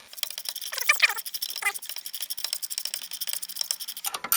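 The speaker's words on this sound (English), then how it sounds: "It's got a built-in ratchet." Built-in ratchet spinning bolts on a Mercedes W210 E-Class suspension, a fast, light clicking rattle in quick repeated runs, close and fairly quiet, with no talk.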